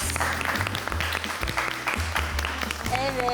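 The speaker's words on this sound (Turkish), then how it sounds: "Alkışlıyoruz." Studio audience applause on a televised cooking competition, a burst of clapping heard under a presenter's talk, with music playing behind.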